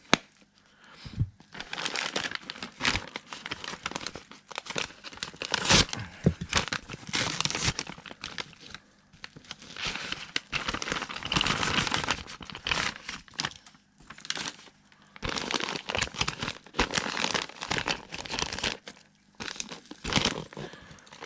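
Packaging crinkles, crackles and tears close up in repeated bursts as new silver collector coins are unboxed, with short quiet pauses between rustling handfuls and no talk.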